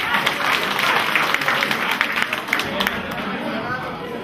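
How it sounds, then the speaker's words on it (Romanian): Audience applause at a Romanian political gathering, a crowd clapping steadily and densely throughout, with murmured voices mixed into the din. "Tot de-al nostru, să-l aplaudăm."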